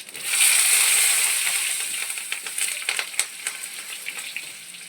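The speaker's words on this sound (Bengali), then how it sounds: "দেখুন আমি তেল দিয়ে দিচ্ছি, জিরা মৌরি ফোড়ন দেবো" Cumin and fennel seeds hit hot oil in a pan for tempering, giving a loud, bright sizzle that bursts up at once, then slowly settles into a softer crackle with scattered pops.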